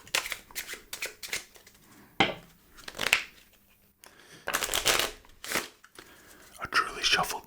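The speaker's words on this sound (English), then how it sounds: "A truly shuffled deck" A deck of playing cards is shuffled and handled close up in a quiet ASMR setting, giving repeated crisp riffles and papery rustles in bursts, with soft whispered speech in places.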